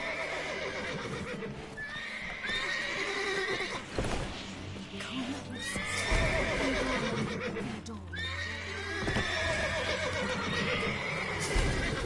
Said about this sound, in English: Calling all the horses before they wake the guards.